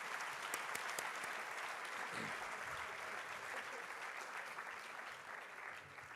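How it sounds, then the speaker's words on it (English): Sustained audience applause at a national 100th birthday celebration gathering for Sri Sathya Sai Baba, steady dense clapping filling the whole stretch with a faint voice or two beneath. "Another round of applause for our young adults"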